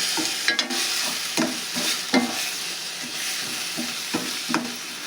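Dill greens curry (sabsige palya) is stirred in hot oil in a pan, a steady sizzle with rhythmic scraping strokes of a spatula repeating every second or so, close and with no talking.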